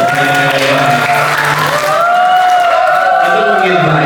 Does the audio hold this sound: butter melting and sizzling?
no